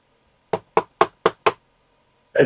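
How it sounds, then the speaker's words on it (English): Five sharp knocks on a door come in quick, even succession, loud and close, followed by a brief pause and another thump, during a tabletop role-playing session. "you guys hear a knock at the door"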